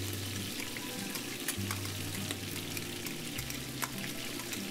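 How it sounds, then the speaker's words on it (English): Onions sear in a pan of meat fat with a steady crackling sizzle, close and continuous, with faint stirring scrapes on top. "We're gonna let the onions cook just a little bit, get a little bit of a sear on them."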